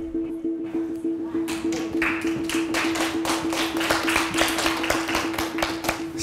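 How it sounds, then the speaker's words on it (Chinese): Thin, scattered applause from a studio audience at a televised singing competition, light individual claps pattering over a steady electronic hum, growing a little denser before fading. "稀稀拉拉的掌声啊"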